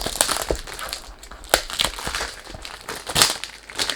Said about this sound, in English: sorry about the noise. When you do unboxing, you can't do much.